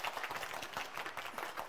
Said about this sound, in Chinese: 一样要给楚炳杰掌声